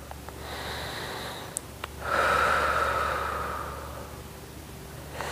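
Deep breathing in and out during a gentle stretching session, one long audible exhale rising after a couple of short sniffs, faint and close against a steady low room hum.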